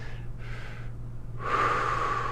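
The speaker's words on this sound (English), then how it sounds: "So I think about breathing, longer out than in." Slow, deliberate breathing with a longer exhale than inhale, as two airy breath cycles close to the mic over a low steady hum.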